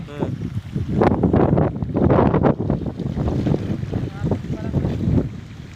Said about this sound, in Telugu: గాలి చాలా వీస్తుంది ఇక్కడ